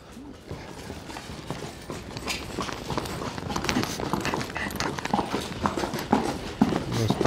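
Horses walk on sandy ground at a ranch, hooves clip-clopping in a steady, loose rhythm, close and fairly loud, with background noise and some faint voices.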